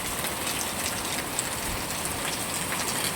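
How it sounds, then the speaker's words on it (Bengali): Heavy rain pours steadily near Gobindanagar in Bankura, beside a building under construction, as a dense, loud, continuous downpour with no voices. "প্রচুর পরিমাণের বৃষ্টি হচ্ছে, প্রচুর পরিমাণের বৃষ্টি।"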